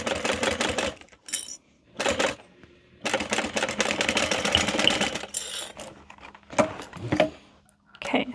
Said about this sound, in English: I am going to give a backstitch over those straps